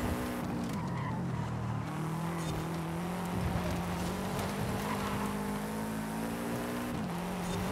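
Drift car in Forza Horizon 5 powering out of a corner, engine droning steadily with tires squealing and skidding throughout, a continuous loud roar with no talk.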